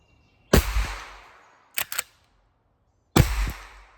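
An M50 air pistol fires three sharp shots: a loud crack with a decaying tail, then a quicker double pop, then another loud crack, close up with silence between.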